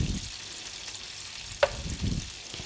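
Half-cooked food goes back into hot oil for a second frying with an oatmeal coating, giving a quiet, intermittent sizzle with a single sharp clink of a utensil partway through and no talk.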